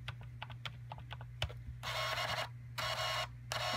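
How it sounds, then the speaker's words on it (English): Keys on a small handheld terminal or register keypad are tapped in a quick, irregular series of clicks, followed by two longer buzzing bursts of printing or processing, heard close and fairly faint. "enter your password"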